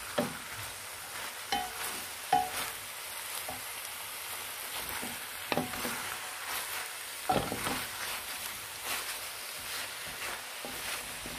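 Urap vegetables with bean sprouts stir-frying in a pan, a steady sizzle broken by scraping stirs of the spatula at irregular intervals, close by and with no talking.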